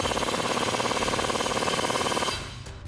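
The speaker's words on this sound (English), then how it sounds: "go ahead and use your 19mm socket to tighten it down" A 19mm socket on a power tool drives home a bolt on a BMR IRS subframe support brace of a 2015-2024 Ford Mustang: a loud, steady, rapid rattling buzz for about two seconds, then it cuts off.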